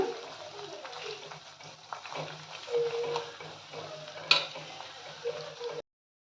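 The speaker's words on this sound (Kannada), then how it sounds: "ಎಷ್ಟು ಸಾಧ್ಯನೋ ಅಷ್ಟು ಕೆಂಪು ಬರೋ ಥರ ಫ್ರೈ ಮಾಡ್ಕೊಳ್ಳೋಣ" Spices and herbs frying in oil on a stove for homemade hair oil, a steady soft sizzle with occasional stirring taps and a small clink, continuous and close throughout.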